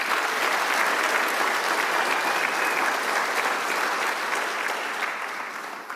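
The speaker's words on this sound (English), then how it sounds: "So let's give them a round of applause, please." Sustained applause from a conference audience honoring office staff, a dense steady wash of many hands clapping that fades slightly toward the end.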